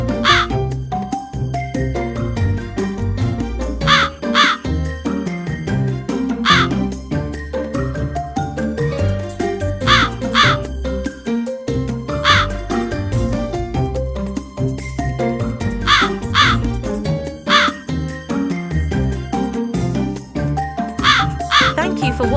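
Cartoon crows caw repeatedly on a farm, loud harsh calls in spaced pairs over bouncy music with chimes, alone without talk.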